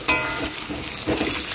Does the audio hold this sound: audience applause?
no